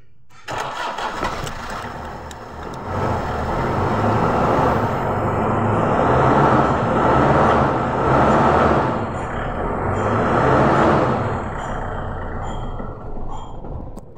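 The diesel engine of a 2005 Toyota Hilux cranks and churns loudly and close up, running rough and uneven with surging rises and sags, struggling to catch and keep going.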